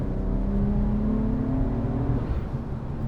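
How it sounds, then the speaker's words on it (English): A turbocharged BMW sports car engine accelerates on a track, its tone climbing steadily and holding loud and close before dropping away abruptly near the end. "You gotta love the turbo noises"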